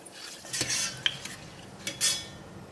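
Kaffir lime leaves frying in hot oil for crispy chicken wings, a soft sizzle under scraping and clinking of a metal utensil against the pan, close and fairly quiet.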